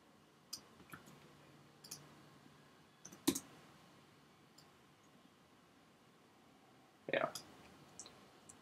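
Faint computer mouse clicks while working in After Effects, a few scattered light ticks spaced a second or more apart, heard close under quiet background hiss with soft talk in the room.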